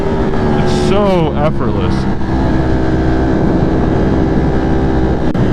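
A motorcycle on a commute accelerates hard in third gear with a quick rising engine sweep, then cruises under steady wind rush while the rider talks.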